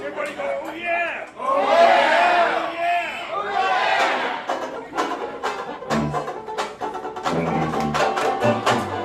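A crowd on a Thursday afternoon Zoom shouts together in a loud, ragged group yell, followed by scattered cheering and whoops that carry on with uneven bursts.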